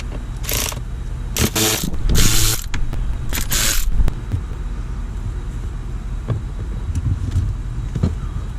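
Torx 20 screws being backed out of an interior panel on a 2014 Mercedes-Benz E350: bursts of close, rapid ratcheting clicks from a hand tool, then quieter mechanical handling sounds.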